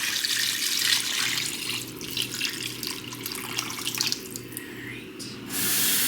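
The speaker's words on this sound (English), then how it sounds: "I think not quite a full pitcher, but we're going to keep filling this up" Tap water rushes steadily into a pitcher being filled for crock pot bone broth, a continuous close splashing hiss that shifts in tone near the end as the flow changes.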